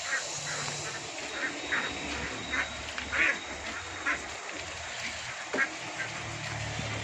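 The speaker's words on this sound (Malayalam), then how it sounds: "അപ്പോൾ ഈ താറാവുകൾ കുറച്ച് നമ്മുടെ അടുത്ത് ഉണ്ട് ഇപ്പോൾ സെയിലിന്" Kuttanad ducks on a farm quack in repeated short bursts, some overlapping, heard at a moderate distance over a low, steady background.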